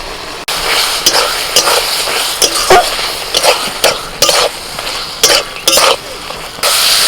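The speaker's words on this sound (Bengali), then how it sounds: "সোয়াবিনটাকে আমি মিনিট 3-4 মশলার সাথে ভালো করে কষিয়ে নিয়েছি" Fried soya chunks sautéed with masala in a pan give a soft steady sizzle, broken by repeated clinks and scrapes of a spoon against the pan.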